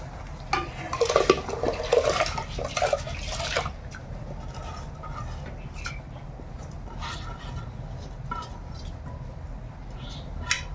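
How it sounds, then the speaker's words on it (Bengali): Rice is tipped into a pot of hot water on the stove: a short burst of splashing and pouring, then quieter intermittent drips and clinks against a low background rumble, with no talking. "এবার চালটা তুলে দিই।"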